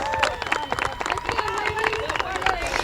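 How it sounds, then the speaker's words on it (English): Crowd applause for award winners at the 2015 Affiliate Bowl, dense steady clapping with some cheering and background chatter mixed in, moderately loud and continuous. "Give them a round of applause"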